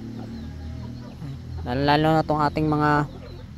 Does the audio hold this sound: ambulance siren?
no